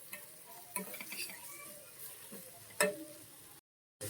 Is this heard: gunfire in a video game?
no